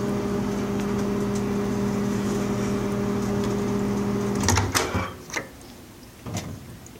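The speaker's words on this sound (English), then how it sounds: "Microwave." A microwave oven hums steadily for several seconds, then stops, followed by a few clicks and clunks like its door opening.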